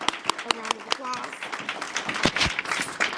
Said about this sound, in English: if we could give Miss Amaya Miller a round of applause